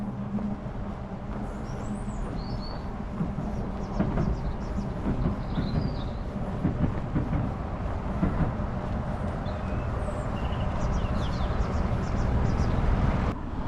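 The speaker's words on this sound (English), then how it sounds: "Oh, there's a train coming." A train rumbles steadily nearby, a continuous low roar with rattling wheel noise that swells slightly toward the end; faint high chirps sit above it.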